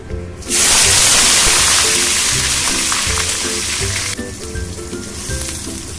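Hilsa fish frying in hot oil: a loud, dense sizzle bursts in after half a second and crackles steadily to the end, easing slightly in the last couple of seconds, with low tonal sounds faintly underneath.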